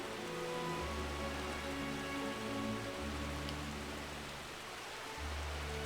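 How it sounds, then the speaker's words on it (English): Steady rain falls in the sailing game Uncharted Waters Online, a soft even hiss with a low droning tone underneath and no thunder. "again a little bit of rain, but no heavy storm or anything as of yet"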